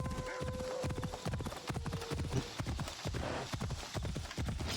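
A winged unicorn horse in Assassin's Creed Odyssey trots with quick, rhythmic, close hoof clops, with a faint whinny early and no talk over them.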